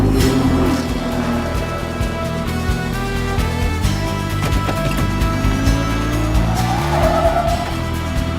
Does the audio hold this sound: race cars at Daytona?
yes